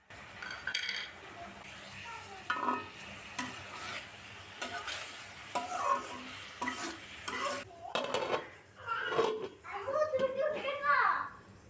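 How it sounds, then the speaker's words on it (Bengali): Fried potatoes tossed with dried red chilli and chopped coriander in a pan of oil for a Bangladeshi potato dish: scraping, clinking stirs and a soft sizzle, with children's voices chattering nearby. "ভেজে রাখা আলু, শুকনা মরিচ, ধনেপাতা কুচি দিয়ে ভালোভাবে নাড়াচাড়া করে 3 মিনিট দমে রেখে দিতে হবে"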